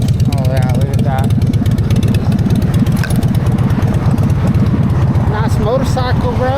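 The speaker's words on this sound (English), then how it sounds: "Nice motorcycle, bro." A motorcycle engine runs loud and close on a sunny street in Orange County, California, with a constant throbbing rumble that does not stop, and brief voice-like tones rise over it.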